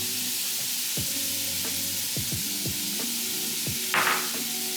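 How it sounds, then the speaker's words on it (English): Steady sizzling hiss of onions frying in a hot pot for seafood gumbo, with occasional stirring clatter and a brief louder burst near the end. "Go ahead, add your onions."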